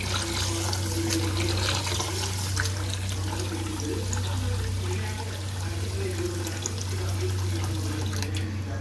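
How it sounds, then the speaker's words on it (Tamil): Grain washed by hand in water makes steady, close sloshing and swishing with running water under it and no voices. "நான் வாஷ் பண்ணிக்கிட்டே தான் இருக்க போகிறேன்"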